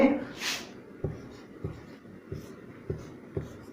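A pen taps and scratches out an equation by hand, about six short, evenly spaced strokes close to the microphone, heard after a brief breath or sniff.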